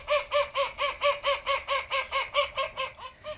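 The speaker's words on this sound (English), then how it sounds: "And this one is the urban quacking." Urban London ducks quack loudly and fast in a steady run of about thirteen evenly spaced, raucous calls, close and clear, tapering off at the end.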